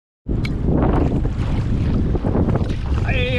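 Strong wind roars and buffets the microphone on an open winter coast during a paddling trip in neoprene, a steady loud rush with a brief whistling tone near the end and no talk.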